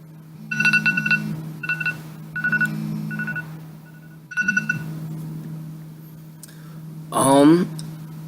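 A phone timer alarm goes off after a five-minute countdown, sounding as clusters of bright electronic beeps that repeat in short bursts. A quick rising warble follows near the end, with a low steady hum underneath throughout.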